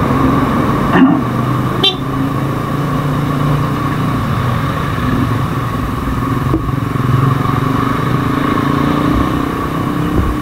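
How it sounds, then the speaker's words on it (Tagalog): Heavy traffic rumbles steadily near the Rosario flyover, with motorcycle and car engines droning continuously and short horn toots cutting through the dense, loud road noise. "Traffic malala."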